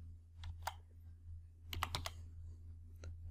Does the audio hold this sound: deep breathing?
no